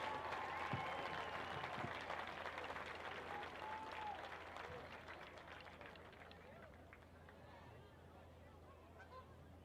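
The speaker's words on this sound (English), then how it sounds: "Warrior fans, let's give a round of applause for our sweet Michael Warrior." Crowd at a high school homecoming football game in a stadium, broad sustained applause and cheering from many people, fairly distant and steady, with a public address voice and faint honking noisemakers mixed in.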